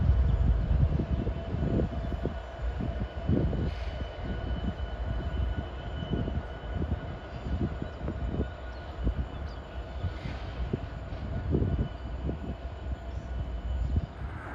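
Train rolling east on the NS Harrisburg line in downtown Harrisburg, a loud continuous rumble with repeated rhythmic clunks of wheels over rail joints, close by and sustained.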